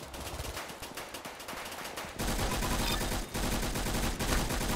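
Rapid automatic gunfire in the Roblox shooter Arsenal: dense, loud bursts of shots that grow louder and more continuous partway through, with a brief pause before firing resumes, with no speech.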